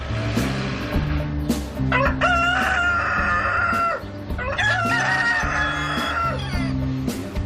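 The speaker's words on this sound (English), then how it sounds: "I think there's 4 chickens and 2 cockerels" Two cockerels crow loudly and repeatedly, two long cock-a-doodle-doos close by on a housing estate, over a busy backdrop of clucking hens.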